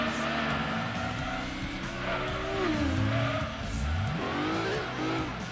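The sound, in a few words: race car engine and tires in the video game Gran Turismo 2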